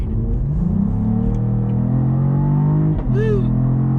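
A 2022 Cadillac CT4-V Blackwing's engine revs hard under heavy acceleration, a loud, steady mechanical roar climbing in pitch, then briefly dipping on a shift before picking up again.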